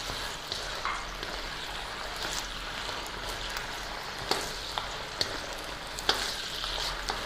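Crab pieces sizzle and fry in a chili crab sauce, a steady close crackle with a few sharper pops and stirring knocks, no talking.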